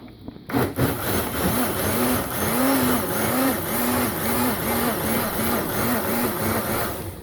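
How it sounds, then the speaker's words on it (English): A blender whirs steadily with a rising and dipping motor pitch as it purees seasoning for Liberian plantain gravy, loud and close after a brief quiet start, with no talking. "I always like to blend my seasoning with all my stuff to get the correct taste that I need"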